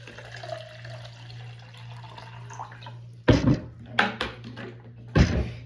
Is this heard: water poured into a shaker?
yes